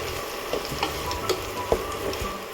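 Salt stirred into a sizzling tempering in a pan for tomato charu, with steady frying hiss and several sharp spoon scrapes against the pan, close and clear, no talking.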